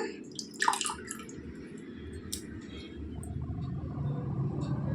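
Water trickles and drips steadily into a basin as soaked potatoes are drained, a soft continuous splashing with a few brighter clinks near the start.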